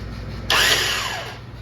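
Starter motor on an Ultima 113 chopper build spins up in one brief, loud whir with a falling whine, lasting about a second over a steady low hum, with no talking.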